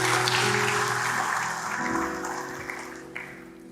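Church congregation clapping together in a steady wash of applause, loud at first and slowly thinning out, with sustained instrumental tones underneath.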